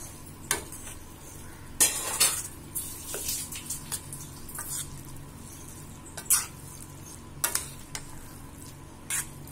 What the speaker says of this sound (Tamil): இப்போ கொஞ்சம் நெய் ஊற்றிக்கலாம்.